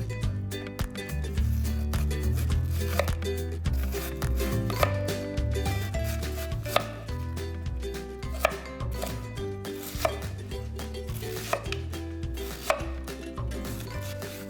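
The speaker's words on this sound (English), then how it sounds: "for the best texture in your slaw, I like it really thinly sliced. So just be patient with a really sharp knife" A very sharp knife slicing cabbage thinly for slaw, heard as a steady run of crisp, rapid cuts against a board with soft background music underneath.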